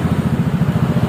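A Honda ADV 160 scooter fitted with a racing exhaust runs close by with a steady, throbbing mid-pitched engine note that pulses rapidly and evenly.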